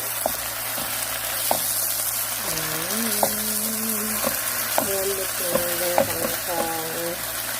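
Water spinach (kangkong) in oyster sauce fries in a pan with a constant loud sizzle and occasional scraping, while someone talks over it throughout.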